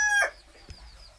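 A chicken gives a single short squawking call up close, followed by a brief soft knock and quiet background.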